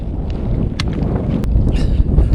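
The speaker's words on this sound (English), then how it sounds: "Wind kind of sucks." Wind gusting across a valley floor in Alaska, a steady low roar of air buffeting the microphone with no talking.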